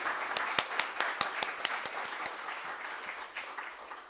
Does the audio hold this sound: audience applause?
yes